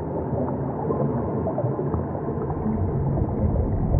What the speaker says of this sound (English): Whale shark.